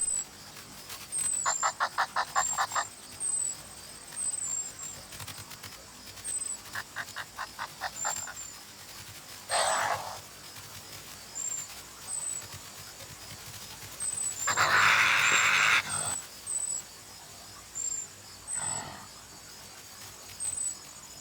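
A noisy, agitated colony of prairie dogs on the North American plains gives repeated short bursts of calls, with brief chirps and louder barking spells standing out over a faint background of insects.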